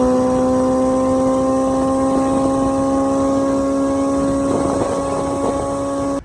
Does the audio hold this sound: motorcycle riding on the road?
yes